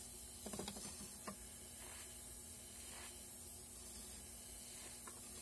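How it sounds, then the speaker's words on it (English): A soldering torch hisses steadily as it heats a sterling silver earring for attaching a post, a faint continuous rushing broken by a few small clicks and taps, with no talk. "take my torch, heat up that area"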